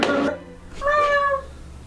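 A single drawn-out cat meow, clear and fairly close, following a brief burst of other sound at the start.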